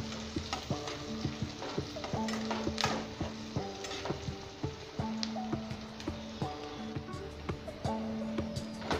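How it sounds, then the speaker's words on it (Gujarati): Onions fry and sizzle in a pan while a utensil stirs them toward brown, its scrapes and taps landing in a quick, irregular rhythm over a constant close-up crackle. "બ્રાઉન થવા દેવાના કાંદાને."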